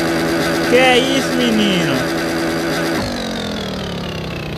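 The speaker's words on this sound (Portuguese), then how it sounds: "A velocidade da moto tá aumentando, ó." A Honda Hornet motorcycle engine revs hard during a wheelie, its pitch climbing before a sharp gear change at about three seconds, then settles into a steady high drone. Someone shouts briefly over the engine.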